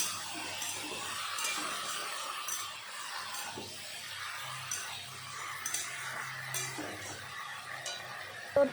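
Kochur loti (taro stolons) being mixed by hand in a bowl, giving soft, close, continuous squelching and rustling with a few light knocks against the bowl, without any talk.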